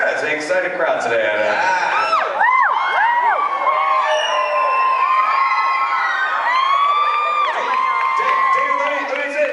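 An excited crowd at a fan convention cheers, whoops and shouts in overlapping bursts, loud and close, with high voices rising and falling throughout.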